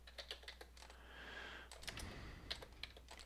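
Quiet, close clicking of keys on a computer keyboard, typed in quick irregular runs with a brief pause in the middle.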